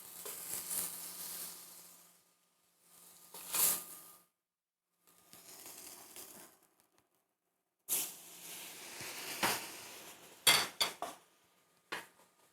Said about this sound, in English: what I'm doing right now is I'm just doing a little bit of a deglaze